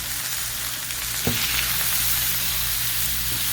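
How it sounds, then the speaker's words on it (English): Vegetables sizzle steadily in hot olive oil seasoned with crushed red pepper, a constant close hiss with one dull knock of a utensil partway through. "I just mix to get the vegetables down into that olive oil so that they can get softened"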